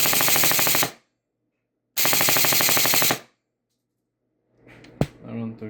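A lightweight airsoft electric gun (AEG) fires on full auto in two rapid, evenly rattling bursts of about a second each, loud and close, followed by a person speaking.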